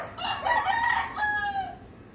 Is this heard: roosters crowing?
yes